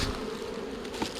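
Bees buzzing steadily around a small, aggressive hive, a dense continuous insect hum close by with no voices.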